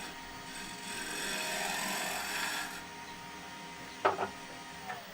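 A bowl gouge's lower wing scrapes wood on a lathe during a live woodturning demo, giving a steady continuous rasp for about three seconds, then a couple of sharp short knocks near the end.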